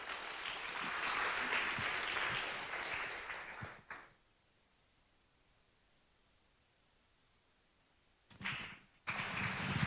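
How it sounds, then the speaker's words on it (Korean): Church congregation applause at a Sunday service, a dense round of clapping that fades out, leaving near silence, then a brief burst of clapping returns near the end. "우리 박수로 격려하겠습니다"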